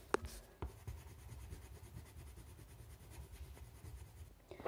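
Coloured pencil crayon scratching across paper, a close, soft continuous scraping with a few sharper taps and knocks at the start and end, no talk.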